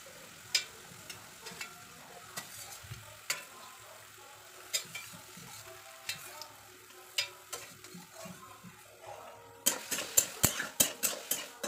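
Potatoes stirred and fried with spices in a pan at home, a soft continuous sizzle under repeated scraping strokes of a spoon, growing louder and faster toward the end, with no talking.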